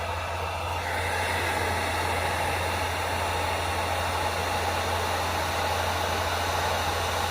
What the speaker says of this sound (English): Now I just got to use my heat gun to shrink it on there.